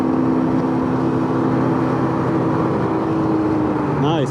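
Loud engine roar of a Nissan GT-R running on E85, sustained and rising in pitch as it pulls away.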